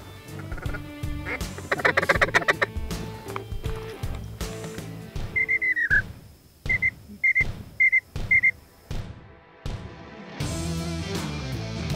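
Teal ducks quack during a duck hunt: a run of about five short, loud, evenly spaced calls stands out against outdoor background noise, with no speech.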